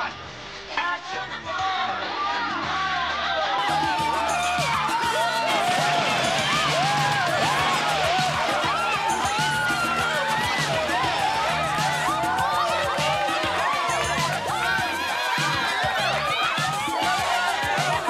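Film-set crowd of extras cheering and whooping with lively energy, a dense, loud wall of voices and shouts sustained throughout after a brief quieter start.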